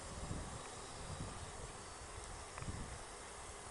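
A steady, low hum of many honeybees buzzing continuously and close by in an open hive, with faint crackles and shifting movement underneath.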